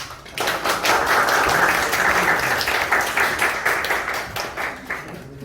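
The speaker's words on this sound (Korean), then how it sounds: "열심히 준비한 누수를 잡은 팀한테 다시 한번 박수 부탁드립니다" An audience at a team's project presentation on a groupware e-approval service breaks into continuous applause. The clapping is dense and steady for about five seconds, then thins out slightly.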